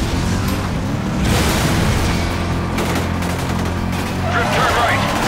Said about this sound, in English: Pass close to explosions.